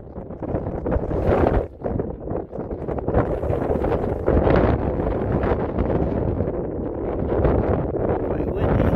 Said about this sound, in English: Yeah, it's freaking windy out there.